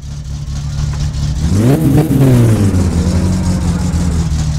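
A car engine in the My Summer Car game revs up sharply, its pitch rising then falling back to a steady drone, loud and close throughout.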